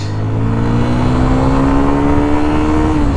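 Yamaha FZ250 motorcycle accelerating hard through a gear, engine note climbing steadily in pitch as it revs up, loud and close with a continuous droning roar.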